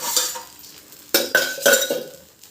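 Batter being stirred with oil in a bowl, with a few sharp scraping and clinking strokes of a spoon against the bowl, close and clear with no talking.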